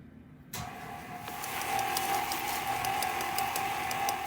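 An electric mixer switches on and whirs steadily through oatmeal raisin cookie dough, starting abruptly and settling into a continuous motor drone with a rising pitch and faint rhythmic ticking.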